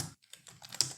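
Rapid clicking keystrokes on a computer keyboard while code is typed, close and fairly quiet, in a short irregular burst with no talking.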